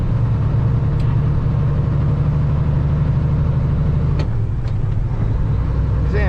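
A truck's engine in the cab as the throttle is released after accelerating to 1500 RPM, a loud steady low drone that drops in pitch partway through, with a few faint clicks.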